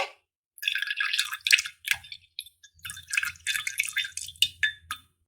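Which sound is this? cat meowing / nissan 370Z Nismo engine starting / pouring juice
pouring juice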